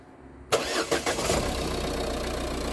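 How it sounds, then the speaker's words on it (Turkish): A diesel car engine cranks and catches abruptly, then settles into a steady, rough idle close by with no throttle added, in Göksun, Kahramanmaraş. "çalıştırırken kesinlikle dizel arabaya gaz vermiyoruz arkadaşlar"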